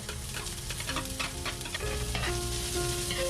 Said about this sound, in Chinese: 先放进葱花，将葱花爆香